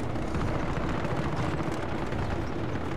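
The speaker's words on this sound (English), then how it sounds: "Getting shot at." Dense, continuous gunfire and explosions from a Call of Duty: Modern Warfare battle, a loud unbroken roar of shots and blasts with no clear gaps.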